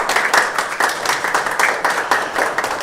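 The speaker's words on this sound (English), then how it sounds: "Madam Reverend Dr. Joyce Ayi, if we can acknowledge her with a round of applause." An indoor conference audience applauds its keynote speaker with a brisk round of clapping that holds steady throughout at moderate volume.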